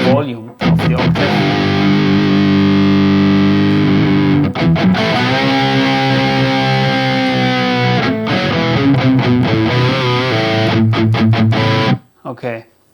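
Electric guitar played through the Neural DSP Gojira X plugin with the octave effect engaged, a thick, loud distorted sustained riff with doubled low octave running continuously for about twelve seconds before cutting off, no talking.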